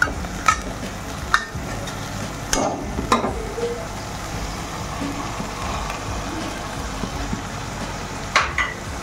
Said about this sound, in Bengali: ভালো ফ্রাই করে তারপর আমরা টমেটো পেস্টটা দিয়ে দেবো।